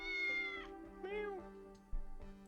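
A cat meows twice in the video game Tales of the Neon Sea, each call clear and drawn out, over a low steady hum with a soft thump near the end.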